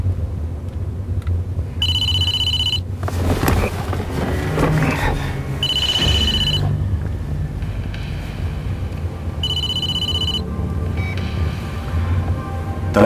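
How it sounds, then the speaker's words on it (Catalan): A telephone rings in three separate, evenly spaced bursts of a bright, buzzing bell tone, clear and close, with quieter rustling and movement between the rings. "Telèfon de la Clara da Silva, digui'm"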